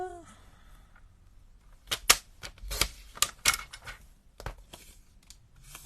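Scissors cutting card paper while making a handmade birthday card, several sharp snipping clicks in short bursts close up, with quiet room background between cuts.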